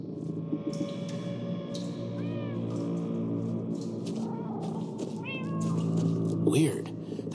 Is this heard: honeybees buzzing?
no